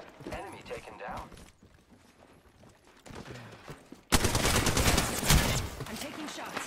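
Heavy automatic gunfire from the Apex Legends video game bursts in loud and sustained after quieter stretches of game action, with a voice talking over the earlier part.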